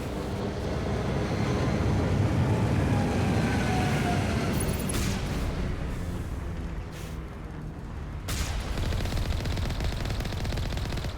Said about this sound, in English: Who's shooting me? Stop it. Who else is shooting me?